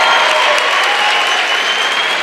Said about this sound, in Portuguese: Vamos, aplaude, gente,